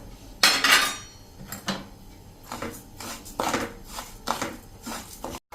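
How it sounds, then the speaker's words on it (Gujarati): Cracked wheat (fada) being dry-roasted over a medium flame for idli, with a spatula scraping and clattering against the pan in close, irregular strokes and no one talking. "આ ફાડાને મીડિયમ ફ્લેમ ઉપર શેકી લેશું 4 થી 5 મિનિટ"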